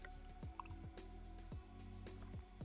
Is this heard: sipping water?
yes